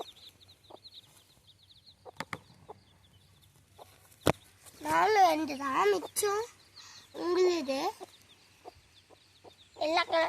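Chickens cluck in short, scattered calls near the microphone, with a few sharp knocks, as people talk loudly in bursts over them.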